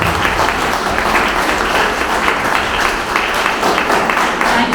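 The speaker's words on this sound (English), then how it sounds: "Please give a round of applause to our moderator." Audience applause at a book launch event, steady dense clapping that fills the room at a loud, even level throughout.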